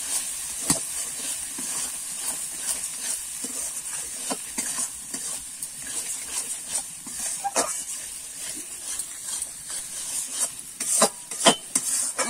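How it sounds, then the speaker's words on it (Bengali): Peas and spices, with turmeric and chilli, sizzle and hiss in a kadai while a spoon stirs and scrapes, giving irregular close clinks and scrapes over a steady frying hiss. "দিয়ে কিন্তু আমি একটুখানি কষিয়ে নেব।"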